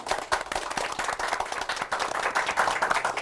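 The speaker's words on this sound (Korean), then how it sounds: "그러면 오늘 그 수고하신 세 분의 MC분들한테 박수 부탁드리겠습니다" An audience at a Korean talk event claps for the three MCs, with dense, crackling hand claps that keep up an uneven, lively patter for several seconds and no speech over it.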